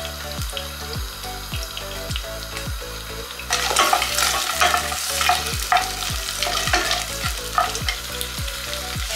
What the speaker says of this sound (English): I'm going to add some prawn. I'm going to allow this to fry for a couple of minutes.